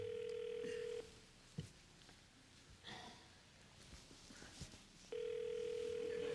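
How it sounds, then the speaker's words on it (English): A steady telephone dial tone plays on a phone hookup during a call to United Airlines, cutting off after a second and returning near the end, with faint sniffs and room noise in the gap. "Could we get United Airlines on the phone, please?"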